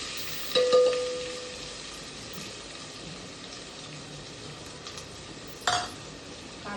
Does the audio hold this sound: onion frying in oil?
yes